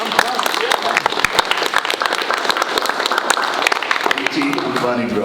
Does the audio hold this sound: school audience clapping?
yes